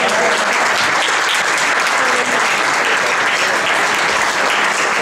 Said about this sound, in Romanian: Aplaudați că merită